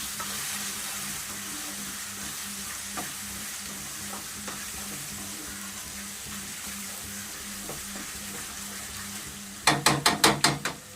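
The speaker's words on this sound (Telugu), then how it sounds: "అన్నిటిని ఒకసారి తిప్పుకుంటున్నానండి" Cauliflower curry with turmeric frying in a pan, a continuous close sizzle with scattered scraping stirs, ending in a quick run of loud rhythmic clanks of a spoon against the pan.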